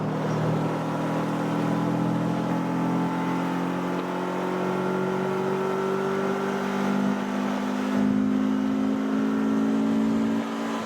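Tuned all-wheel-drive Honda CR-V with a swapped B20 VTEC engine accelerating on a street, its engine note rising steadily in pitch for several seconds, loud and close from inside the car.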